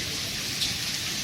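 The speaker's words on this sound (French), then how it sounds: "vous voyez qu'il pleut des grêles et tout, ça fait super peur" Hail pouring down outdoors during a storm under a pink-tinted sky, a dense, steady hiss of pelting ice that stays loud and unbroken throughout, with no voices.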